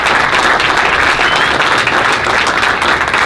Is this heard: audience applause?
yes